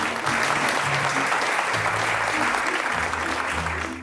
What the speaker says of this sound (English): Give yourself another round of applause, everybody.